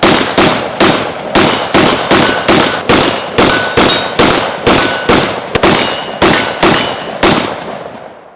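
A 5.45 carbine firing Russian corrosive ammo, with about eighteen loud, sharp shots in a steady rhythm of roughly two per second, then the ringing fades. No voices are heard.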